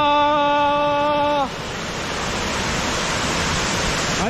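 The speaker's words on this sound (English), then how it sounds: "you can see the waterfall furious, making noise" Steady, loud rushing roar of a waterfall in Horton Plains, Sri Lanka, filling the clip, preceded briefly by a sustained harmonic tone that cuts off.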